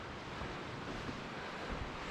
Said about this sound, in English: the waves is just proper ripping up this side